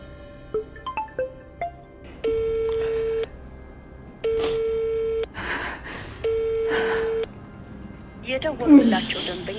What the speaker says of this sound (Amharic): የደወሉላቸው ደንበኛ ስልክ አይነሳም።